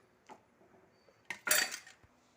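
Boiled potatoes are stirred into a kurma in a pot, a few scattered metal spoon clinks against the vessel followed by a short scraping, clattering stir, close and fairly quiet.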